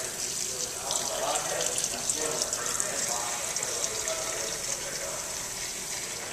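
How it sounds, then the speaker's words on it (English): Drive axle wheel-end parts washed in a cleaning tank, with a steady, hissing rush of running water and splashing, close by and even throughout, with faint talk beneath. "Now we're gonna take these over to the cleaning tank and we're gonna get them all cleaned up"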